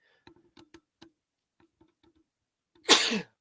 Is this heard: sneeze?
yes